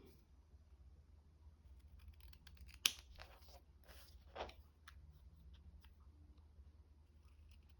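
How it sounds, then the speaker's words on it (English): Scissors cutting paper for making junk-journal postcards: a few quiet, close snips and rustles, with one sharp cut standing out, over a faint low hum and no talking. "I'm going to cut it there."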